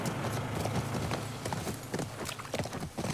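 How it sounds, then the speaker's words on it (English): Horse hooves clip-clop in The Last of Us Part II, a steady run of close, distinct hoof beats layered over a dense, noisy game soundscape. "They get on the horse!"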